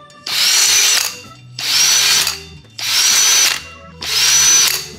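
Four loud, close bursts of a power drill boring into a bicycle's rear brake disc, each whine rising, holding about a second, then winding down, with brief pauses between.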